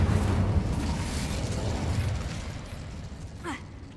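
A Bombarda exploding-spell blast in a Harry Potter game, a loud rumbling burst that rolls and fades over a few seconds, with a short whooshing effect near the end.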